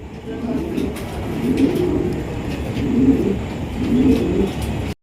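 A pair of Danish pigeons coo in low, rolling bursts, about three or four calls spaced a second or so apart over a steady background hiss.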